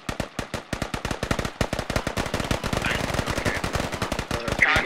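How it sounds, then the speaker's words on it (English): Sustained automatic gunfire in the military shooter game Squad, dense rapid bursts of rifle and machine-gun fire cracking continuously over nearly five seconds with a steady, loud battlefield intensity. "I hear a lot of fire"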